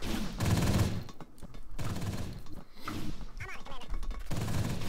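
Sustained suppression fire in XCOM crackles as a continuous stream of shots mixed with game effects and music, moderately loud throughout.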